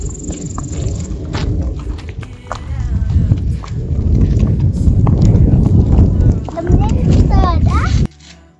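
Horse moving in a prepared stable stall with clean, dry bedding, hay and feed, giving dull shuffling hoof steps and rustling close by, with a steady rumbling background and occasional faint knocks.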